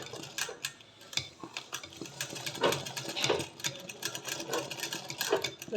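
A sewing machine works machine embroidery on a flower design, its needle clattering in quick rhythmic bursts with brief pauses, close and moderately loud, with no speech.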